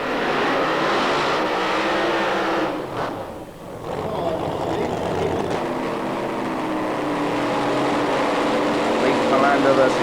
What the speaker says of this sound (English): here's a rather different funny car with a Saab body on it